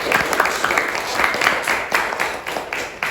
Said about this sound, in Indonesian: Tepuk tangan untuk Bang Julu dan SMA Pancabudi.